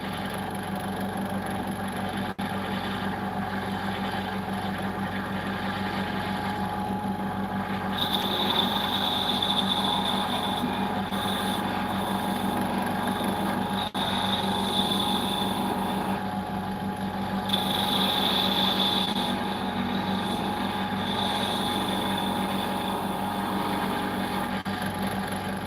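A lathe hums steadily while a Harbor Freight spindle gouge cuts wood. The motor drone runs the whole time, and a higher scraping tone rises during two stretches of cutting, mid-way and again toward the end.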